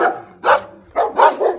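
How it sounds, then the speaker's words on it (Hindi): Several dogs bark early in the morning, giving a sharp bark followed by three quick barks in a loose cluster, close and loud against a quiet background. "इतनी सुबह सुबह कुत्ते क्यों भौंक रहे हैं?"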